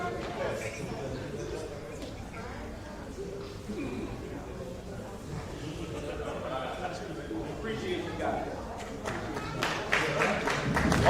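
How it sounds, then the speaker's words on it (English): An audience at a band directors conference in New Orleans applauds, with scattered clapping and crowd noise that rises and grows louder toward the end, while a speaker talks over it. "give them a round of applause"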